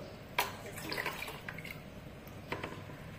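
Water splashes and trickles as it is poured into a saucepan of rice and lentils for bhoger khichuri, with a sharp splash at the start followed by softer drips and pours, close and fairly quiet.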